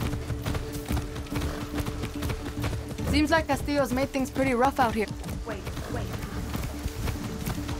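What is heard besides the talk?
horse hooves galloping in Far Cry 6 video game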